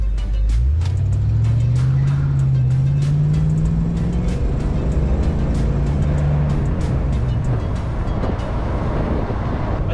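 A Foxbody Mustang 5.0 fitted with wheel spacers accelerates from inside the cabin, its engine droning low and loud as the revs climb through a gear and then settle into a steady cruising rumble, with a faint ticking rattle throughout.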